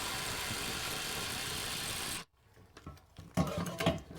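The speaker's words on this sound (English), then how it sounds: "You can see how an impact makes this a lot easier." Impact wrench pressing a front wheel bearing into an Acura TL hub, running as a loud continuous broadband whir for about two seconds, then stopping abruptly and leaving clanks and handling noises.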